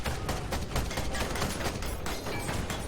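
Rapid weapon fire in the steampunk mech game Ironcast, a dense burst of repeated shots and mechanical clatter, loud and continuous with no speech.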